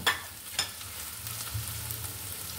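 Onions and green chilies frying in a pan for a water spinach dish, with a steady sizzle and a couple of sharp stirring clinks at the start, close and moderate, no speech.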